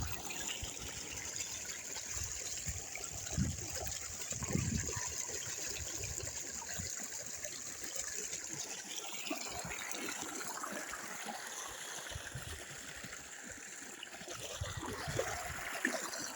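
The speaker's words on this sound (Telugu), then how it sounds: "నీళ్ళు చూడండి బాగా పోస్తున్నాయి పైపులు." Irrigation pipes gush water onto a maize field in a steady, continuous rushing wash with a few louder splashy bursts, close and even throughout.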